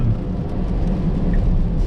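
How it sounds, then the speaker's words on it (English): Low, booming road noise inside a Tesla Model X Plaid driving over rough tarmac in the rain, a continuous deep rumble with a steady, droning character and no voices. "Also a bit of noise coming from just the car itself booming. This on this rough piece of tarmac."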